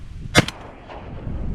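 A single sharp shotgun blast fired at a mallard during a duck hunt cracks out loud and close, followed by a quick echoing tail before outdoor quiet returns.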